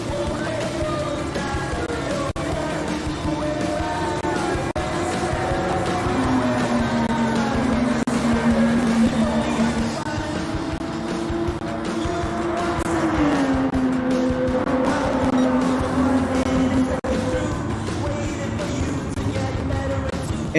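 Race cars lapping in the Gran Turismo GR GT Cup game, engines droning and shifting pitch as they rev and downshift through corners, a continuous loud roar with faint background under it.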